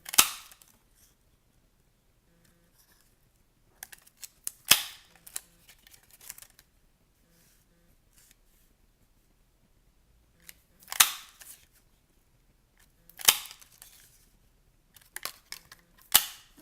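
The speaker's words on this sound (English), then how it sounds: "roughly that was a 2-inch strip of paper that I just cut" Scissors snipping a 2-inch strip of paper, several sharp crisp cuts in separate bursts with quiet gaps between, close and clear with no talking.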